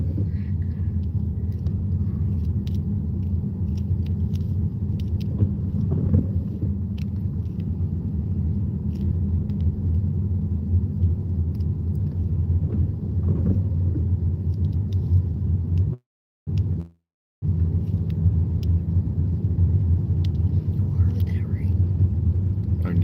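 A car creeps close behind on a pitch-black rural road, its engine a constant low rumble throughout, with hushed voices murmuring over it and a brief dropout midway.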